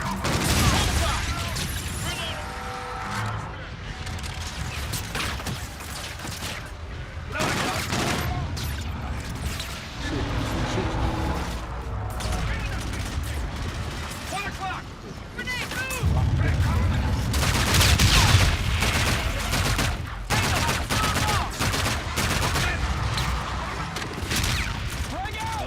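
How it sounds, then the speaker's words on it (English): Sustained gunfire from a Call of Duty: Infinite Warfare battle, dense bursts and explosions running throughout, loud and continuous beneath talking players. "They're shooting civilians."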